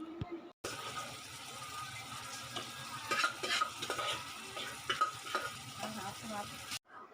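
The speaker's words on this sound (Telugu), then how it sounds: "గోంగూర ఉడకబెట్టుకున్నాం కదా గోంగూరని ఇందులో వేసుకోవాలి" Boiled gongura leaves go into a pan of frying onions and tomatoes for gongura chicken curry; a steady sizzle runs under repeated scraping stirs and wet slapping, close and fairly loud.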